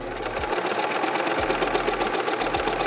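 A serger stitches through two folded layers of denim, a loud, fast, steady mechanical buzz with a rhythmic low thump repeating about once a second throughout.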